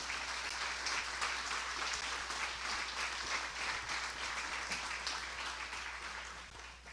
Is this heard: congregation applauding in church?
yes